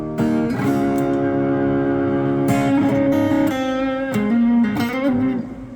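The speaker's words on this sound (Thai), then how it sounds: "ต่อมาครับโอเวอร์ไดจะ ปรับความแตกได้ค่อนข้างกว้างนะครับ" Overdriven electric guitar rings out in sustained, gritty chords and notes, played close and loud with a few changes of pitch.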